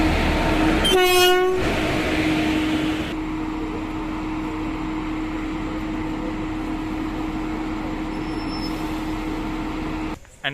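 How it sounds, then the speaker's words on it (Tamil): A WAP1 electric locomotive moves along the track to couple at the other end of the Chemmozhi Express at Needamangalam Junction, opening with a loud, brief horn blast before a steady close hum and rumble continues alone. "ஸோ நம்ம WAP1 ஃப்ரண்ட்டில் வந்து டீகப்பிள் பண்ணதுக்கப்புறம் ரிவர்ஸ் சைடில், அதாவது ஆப்போசிட் சைடில் அட்டாச் பண்ணுறதுக்காக வந்துட்டுருக்கு"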